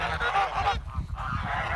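Kholmogory geese by a stream, several honking near the listener in a steady run of calls over a constant watery background, briefly quieter in the middle, with no talk.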